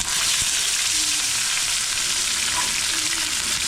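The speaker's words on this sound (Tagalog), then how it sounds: "Isahan na natin yung magprito." Bisugo fish fries in a smoking-hot pan, giving a loud, continuous close-up sizzle and crackle throughout with no talk.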